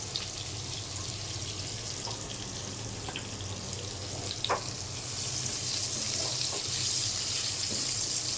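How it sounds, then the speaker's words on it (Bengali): Taro stems seasoned with turmeric and salt fry quietly in a pan for a hilsa curry, giving a soft, even hiss with a few faint clicks. "কচুর ডাঁটাটা একটু ভাজা ভাজা হবে।"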